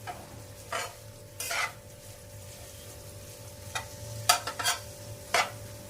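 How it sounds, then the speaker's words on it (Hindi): Bitter gourd with a spoonful of gram flour stir-fried in a pan: a low steady sizzle with intermittent sharp scraping and stirring strokes, the louder clatters bunched near the end, no talk. "इसमें डाल देते हैं ये 1 चम्मच बेसन, ये भी इसी के साथ में भून लेंगे।"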